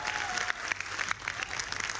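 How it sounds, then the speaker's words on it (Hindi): A student audience at a televised debate gathering applauds, a fairly soft, steady patter of many hands clapping with a few sharper claps standing out. "एक बार तालियां आप लोग भी बजा लीजिए अपने लिए"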